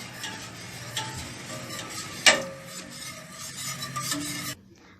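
Cream being stirred while it cooks in a pot: a steady scraping, rubbing swirl with a soft sizzle beneath, plus one sharp utensil knock near the middle, close and moderately loud, with no talking.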